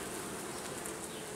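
Honeybees buzz around the flight ramp of a hive entrance, a dense steady hum that stays close and constant with no voices.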